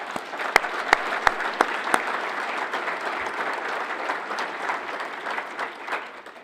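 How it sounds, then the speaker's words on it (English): Audience applause at a city's 2018 State of the City address, opening with a few sharp, distinct claps that swell into steady, moderately distant clapping before tapering off. "I would like to offer a round of applause to the folks at the Garrison and their staff"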